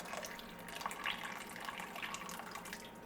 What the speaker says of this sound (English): Just keep straining until all your spent vegetables and meat bones are all out.